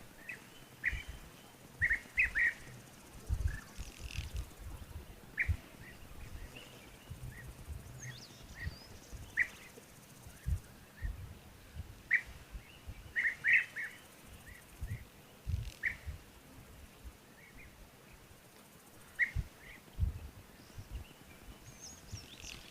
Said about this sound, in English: lots of different birds, lots of animals coming down to have a drink